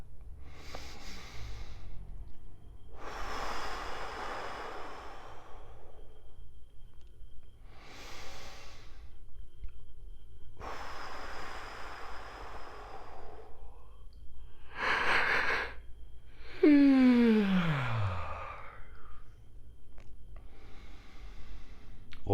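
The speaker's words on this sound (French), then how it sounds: "je respire par 3 fois, de manière dynamique et totale" Three deep, forceful breaths taken by someone seated in a chair, each a long rushing inhale and exhale with pauses between, the last ending in a wavering, voiced sigh; close and alone with no talk.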